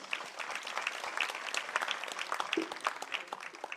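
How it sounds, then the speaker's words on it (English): Audience applauding volunteers at the Seva Sambhrama event in Bengaluru, a few seconds of steady, moderately distant clapping with a brief spoken word at the start. "A special applaud for all the volunteers for"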